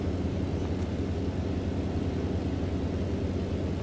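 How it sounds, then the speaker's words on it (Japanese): Constant roaring whoosh of aircraft, including fighter jets, flying by in American Truck Simulator, a dense, even engine rush with no voices. "なんか飛行機がビュンビュン飛んでんな"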